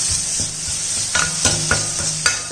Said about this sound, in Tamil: இதை ஒரு வதக்கிடுவோம்.